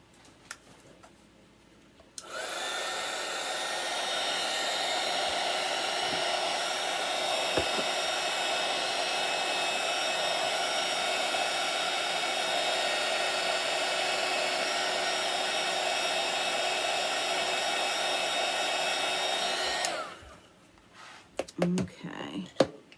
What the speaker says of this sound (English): I'm going to hit that with a little dryer.